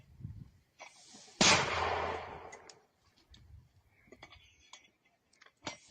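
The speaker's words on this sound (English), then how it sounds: "we can see a Ukrainian infantry group using a 60mm mortar" A Ukrainian infantry group fires a 60mm light mortar outdoors: one sharp, loud launch blast with a long rumbling tail, followed by fainter scattered clicks and knocks of handling the piece.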